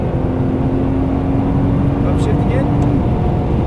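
Nissan GT-R engine pulling hard through an upshift on a cone-marked track, a loud, steady drone in the cabin with a brief change in pitch as the gear changes.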